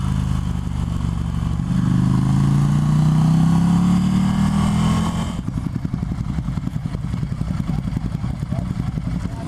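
A Ducati Scrambler motorcycle ridden through canyon roads, its engine droning loudly with a rising pitch that swells, then cuts to a rougher, rapid rumble with clatter as it carries on.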